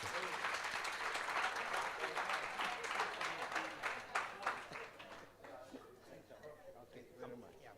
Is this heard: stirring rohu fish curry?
no